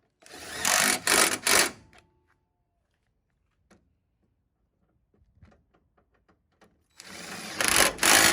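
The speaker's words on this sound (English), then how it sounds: "I just put the bumper on and I'm about to start bolting everything down." A power tool bolting down a car's bumper and hood, heard as a few short, loud whirring bursts at the start and again at the end, with near silence and faint clicks of handling in between.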